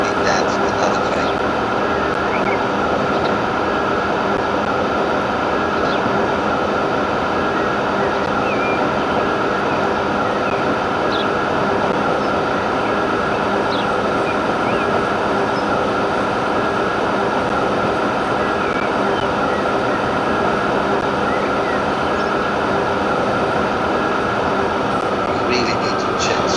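A train runs in the railway simulation game Transport Fever 2, giving a loud, unbroken rumble with a steady mechanical hum that holds without pause from start to finish.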